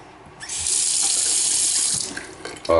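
A bathroom sink faucet turns on and runs a steady, close stream of water into the basin for about two seconds, then cuts off, followed by a short knock.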